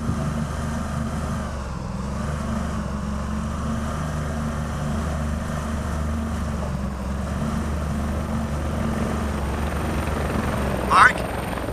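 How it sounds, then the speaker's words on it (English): A helicopter in the video game INFRA drones steadily throughout, a continuous low rotor thrum with engine whine, fairly loud and unbroken, ending in a brief sharp click. "I can see you from the helicopter"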